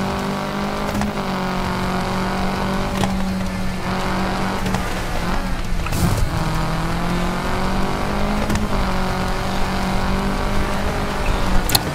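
Race car engines in the video game Gravel drone steadily for twelve seconds, several cars running together with rising and falling revs and occasional tire squeal, loud and continuous with no talk.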